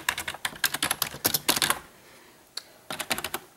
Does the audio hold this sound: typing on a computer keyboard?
yes